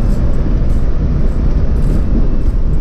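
A Chevrolet Chevette car accelerating from 0 to 120 km/h, heard from inside as a steady, loud engine drone and road rumble that holds continuously without pause.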